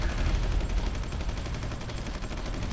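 Units trading gunfire in the war strategy game Supreme Ruler 2020, a rapid, continuous crackle of rattling shots with low booming rumbles underneath, steady and fairly loud with no talk.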